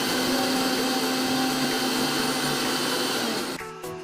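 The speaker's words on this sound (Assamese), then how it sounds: "তাৰপিছত মই ইয়াক পিহি দিছোঁ।" Kitchen blender grinding a mango milkshake of mango, milk, sugar, ice cubes and ground cardamom, a loud steady motor whir running continuously before winding down near the end.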